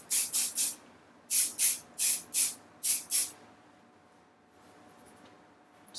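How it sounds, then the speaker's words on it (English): Several short, sharp bursts of Redken hairspray hiss up close onto curled hair, in quick clusters, followed by near silence. "I'm going to spray the rest of it with the Redken."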